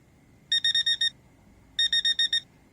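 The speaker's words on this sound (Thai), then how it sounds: "เสียงนาฬิกาปลุกให้เราตื่นนั่นเอง" An electronic alarm clock beeps in two quick bursts of five sharp, high tones, separated by a short pause.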